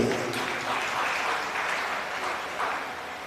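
Audience applause at a Hindi talk on mothers-in-law and daughters-in-law, a steady dense clapping from a crowd that holds at an even level throughout, with no speech over it.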